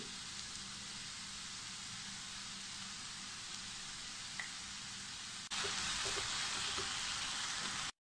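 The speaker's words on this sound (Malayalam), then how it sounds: "നന്നായിട്ടൊന്ന് വഴറ്റിയെടുക്കാം" Onions sauté in a pan for a leftover rice dish, giving a steady, soft sizzle with a faint hiss that becomes louder and brighter over the last few seconds, with no talking.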